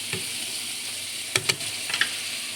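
Chopped onion and garlic sautéing with ground chicken in a pan, a soft steady sizzle with a few quick stirring clinks and scrapes.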